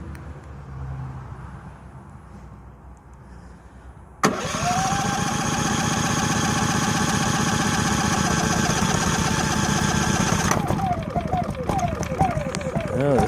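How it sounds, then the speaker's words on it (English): A Predator 5000 watt dual-fuel generator cranks with its electric starter, then catches and settles into a steady loud engine drone that keeps running, with a shift in its note toward the end and a voice heard over it. "the starter stays spinning even if you let off the button until it gets going"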